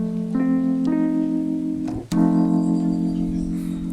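An F dominant 7 chord, struck, restruck and left ringing with a steady sustained tone, a brief break near the middle before it rings on, played alone at moderate volume.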